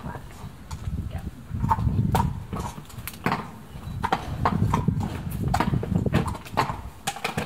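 A horse shifts its hooves while its mane is plaited, giving soft, irregular clip-clop steps at close range over a quiet stable background.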